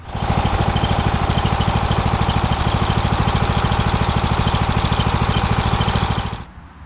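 A Kohler Courage engine on a lawn mower idles loudly and close, a fast steady chugging rhythm that holds for several seconds and then cuts off.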